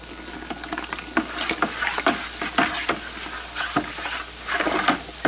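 Fermenting blueberry wine must stirred in a vessel, giving close, wet sloshing swirls over a constant fizzing crackle, with several distinct scraping strokes and no talk.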